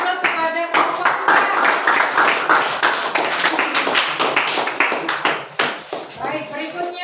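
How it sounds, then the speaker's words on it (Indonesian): A class claps for a group after its presentation, a lively burst of many hands clapping close by that fades toward the end, with voices mixed in. "Beri aplaus kepada kelompok"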